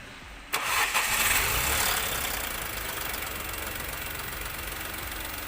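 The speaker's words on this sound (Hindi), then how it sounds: "अब मैं इसको स्टार्ट करने वाला हूँ।" An overhauled Volkswagen Polo 1.2 petrol engine cranks briefly and catches, revving up loudly before settling into a steady, even idle, close by with no talk.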